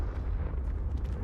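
A Confringo spell blast in the Hogwarts Legacy video game gives a short, dense, rumbling burst with heavy low-end boom, loud and close, and no talking over it.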